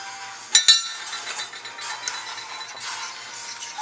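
A utensil stirs thickening gravy in a cast iron pan for smothered cube steak: two sharp clinks against the iron, then steady soft scraping and swishing, close and alone.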